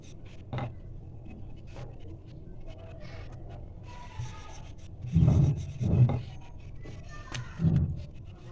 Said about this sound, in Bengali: এবারে আমি একটু হালকা হাতে রুটিটা বেলে নেব